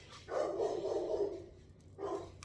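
A dog indoors lets out a few short, moderately near barks: a quick pair followed by a pause and one more bark, fairly quiet in a calm room.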